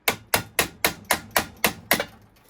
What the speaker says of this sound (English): So usually I just use a paint scraper and a hammer.